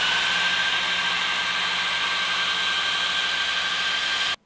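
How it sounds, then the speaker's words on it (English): A Creality laser cutter at full power runs over a stainless steel strip laid on wood, giving off a steady, loud, airy hiss with a thin whine. The sound continues unbroken and cuts off abruptly at the end. "I'm gonna leave the wood in here and just try to cut a piece of stainless out of this long strip."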